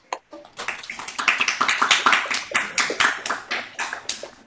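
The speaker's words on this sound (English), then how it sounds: "let's have a round of applause for Margaret" A small audience claps after a home piano recital of Beethoven: a short, steady round of hand claps that starts abruptly, swells, then thins out over a few seconds, close and clear.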